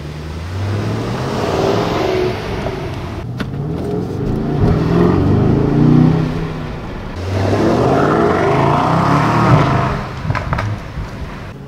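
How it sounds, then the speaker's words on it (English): A 2019 Mercedes-AMG S63 Coupe in Sport Plus mode with exhaust valves open roars loudly as it accelerates, rising and easing off twice with a rumbling, raspy exhaust tone. "I will just pull it into Sport Plus. And now the exhaust valves open."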